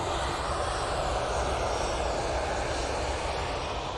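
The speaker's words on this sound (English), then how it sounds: "Aer Lingus just passing right in front of us now" An Aer Lingus airliner taxis close past at Manchester Airport, a steady, fairly loud engine rumble and whine that holds evenly without speech.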